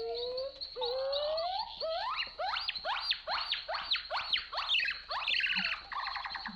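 Dense tropical bird ambience from the Perdida setting of Carnivores Jurassic Park Revolution, with rapid repeated rising chirps and whistles overlapping continuously at moderate level, no voices.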